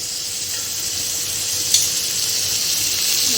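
Prawn sukka masala frying in a pan, a steady bright hiss of sizzling oil throughout with one brief clink near the middle and no talking.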